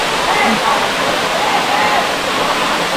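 A continuous heavy rush of falling water fills the air close by at Gandhari waterfall near Medaram, loud and even throughout.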